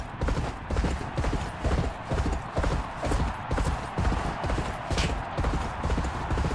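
Rapid rhythmic hoofbeats of a galloping racehorse in a horse-racing video game pound steadily and loudly throughout, with no voices.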